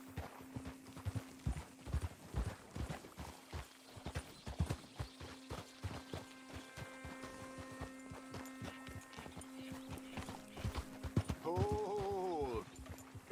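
Horse hooves clip-clop steadily and close by in Red Dead Redemption 2, with a brief whinny near the end and a constant low hum underneath.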